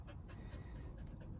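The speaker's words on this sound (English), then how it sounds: "Got the pup in here with me if you hear any panting" A puppy pants in quick, steady breaths close by, soft and rhythmic with no other sounds.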